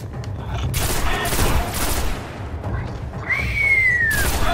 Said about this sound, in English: Kinda love using the shotgun here